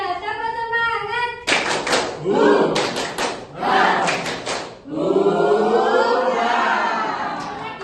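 Classroom of Indonesian schoolchildren performing a 'tepuk semangat' spirit clap on cue, several sharp rhythmic bursts of group clapping and chanting, with a teacher speaking before and children's voices swelling after.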